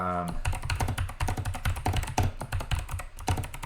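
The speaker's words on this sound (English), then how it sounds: "Let me just do a little typing here." Rapid, continuous keystrokes on a computer keyboard, typed up close as dense, steady clicking with a brief tonal sound at the very start.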